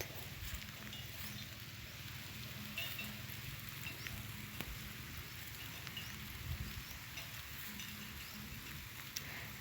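Rain falling steadily while cattle are tended outdoors, a soft, continuous patter of drops on surfaces, faint and even throughout with no talking.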